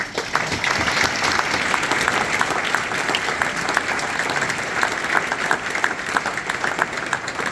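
An audience claps throughout, a dense, sustained round of applause from a sizable crowd that stays loud and even from start to finish.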